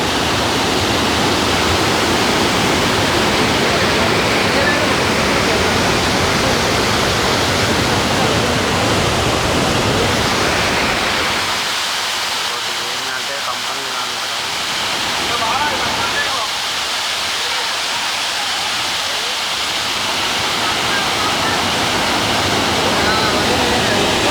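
A small waterfall at Thurkapally rushes steadily in a loud, continuous roar of splashing water that barely changes for the whole stretch.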